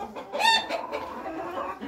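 A laying hen clucks and cackles in a backyard coop, a loud close squawk followed by softer irregular clucks.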